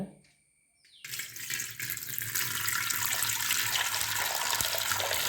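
After a quiet second, water starts pouring in a steady, fairly close stream onto a cloth used for squeezing coconut milk, running to the end with no talking.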